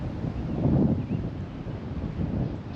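Gale-force wind buffets the microphone on an open golf course, a low rumbling roar that swells and eases in gusts with no voices.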